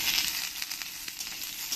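Onions dropped into hot oil with fried garlic and ginger hiss in a short, steady, close-up sizzle with no talking.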